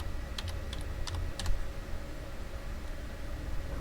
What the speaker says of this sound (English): Press spacebar and type in travel with no period